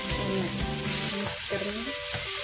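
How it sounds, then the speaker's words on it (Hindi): Stuffed bitter gourds fry in oil in a kadai, a steady close sizzle with soft crackle running the whole time. "इसको 15 से 20 मिनट तक कढ़ाई में इसको थोड़ा तेल में भूनेंगे"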